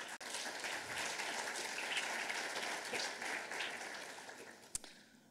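Conference audience at the closing of the CSIESR assises claps in a faint, steady round of applause heard from a distance, ending with a sharp knock near the end.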